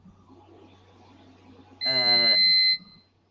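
A game show buzzer blares once for about a second, loud and harsh, cutting in after quiet background talk and murmur.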